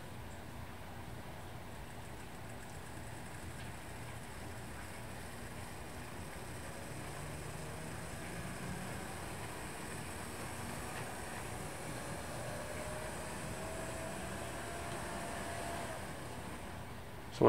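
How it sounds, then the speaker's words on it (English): DCC model train locomotives run together on the layout, a faint, steady mechanical hum and rolling rumble that holds evenly and rises slightly as they accelerate from the lowest speed step, with no talking. "we're going to see as we accelerate from speed step one how the locomotives stay together."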